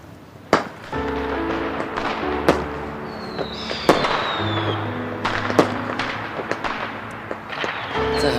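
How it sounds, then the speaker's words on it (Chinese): Fireworks launched after a countdown in Korea, a run of sharp cracks and booming thuds with a whistling streak in the middle, bursting repeatedly over a steady crackling background. "在韩国放烟花代表信仰"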